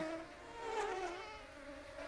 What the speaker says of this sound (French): Dans la prairie, les abeilles bourdonnent toujours joyeusement